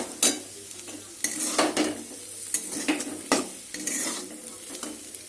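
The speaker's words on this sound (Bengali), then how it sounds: "তাই আলুটা ভেজে নিচ্ছি" Potatoes fry in a home kitchen pan while being stirred, with repeated scraping strokes of a utensil against the metal over a continuous sizzle, close and fairly loud.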